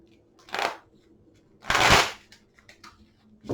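Tarot cards are shuffled in two quick riffling bursts, the second louder and longer, close to the microphone, with soft handling rustles between and no speech.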